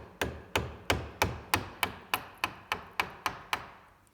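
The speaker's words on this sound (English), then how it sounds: "just keep the chisel flat and then just tap it and we'll remove the wood" A mallet tapping a chisel held flat to clear wood waste between dovetail pins, about a dozen evenly spaced, sharp close knocks each with a short decay, no speech.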